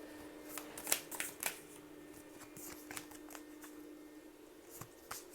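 Tarot cards being shuffled by hand during a reading: quiet, close riffling and papery flicks in irregular bursts, with a few sharper snaps, alone without talk.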